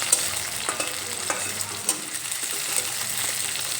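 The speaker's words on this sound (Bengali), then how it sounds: "এই সব কিছু একসঙ্গে কিছুক্ষণ ভেজে নেব।" Onion, garlic, dried red chillies and green chillies fry together in hot oil, giving a steady close sizzle broken by occasional clinks and scrapes of stirring.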